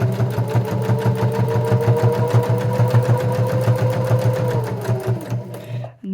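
Sewing machine stitching a silk tarot pouch, a fast even run of rapid needle clatter with a steady motor whir, close and loud, stopping abruptly near the end.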